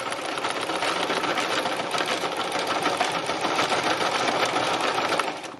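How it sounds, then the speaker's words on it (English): A sewing machine stitches around fabric tulips in a fast, continuous mechanical whirr, loud and close, running without pause and with no voices over it. "I quite like to stitch around the actual outside of where I am"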